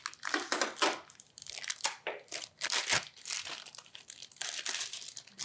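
An LG TV power cord is unwrapped from its plastic packaging, giving close, loud crinkling and crunching in irregular bursts that run almost nonstop.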